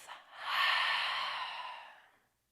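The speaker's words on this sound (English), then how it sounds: "Exhale through the mouth." A long, steady exhale through the mouth during a seated yoga breathing exercise, a soft breathy rush lasting about two seconds after a brief intake, close and alone.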